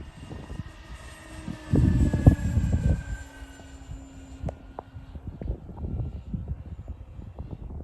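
Electric-converted World Models vintage balsa Intruder 90R model plane, 1600 mm span, in flight: a faint electric motor whine that passes overhead against outdoor wind rumble and handling noises.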